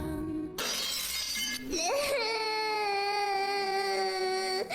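A three-year-old girl sobs in a wailing, sustained cry that rises after a sharp crash, the piercing voice holding steady and close for several seconds.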